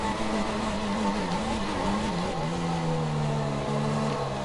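A Renault-engined Formula 1 car in the F1 2016 video game drones at a steady high pitch, its engine note dipping and surging in waves through a downshift, loud and continuous.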